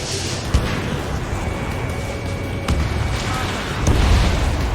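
A target explodes in the combat flight video game Ace Combat 7, with deep booming blasts rising out of a steady roar of jet and battle noise, the loudest burst near the end.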